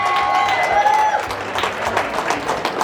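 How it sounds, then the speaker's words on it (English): A studio audience on a sports talk show breaks into applause and some cheering, with other voices and tonal sounds over the opening before the clapping grows more distinct. "Give my man a round of applause,"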